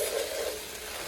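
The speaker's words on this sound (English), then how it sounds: "we're gonna go ahead and add our gochujang first, and then afterwards we'll be adding our soy sauce. And then our soy sauce, and just give that a good nice mix." Gochujang and soy sauce are stirred together in a hot pan for kimchi fried rice, giving a steady, close sizzle with a brief brighter hiss at the start and no talking.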